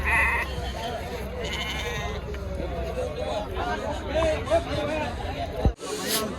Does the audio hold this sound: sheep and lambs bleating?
yes